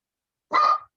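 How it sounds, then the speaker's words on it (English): A single sharp dog bark, loud and close, starting after a brief silence and ringing out alone for about half a second. "What are you barking at, dog?"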